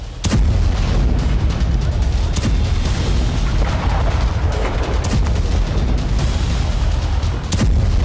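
A missile strike hits a gathering of Houthi fighters, a loud sustained roar of blast and rumbling impacts filling the whole stretch, with sharp bursts near the start and end.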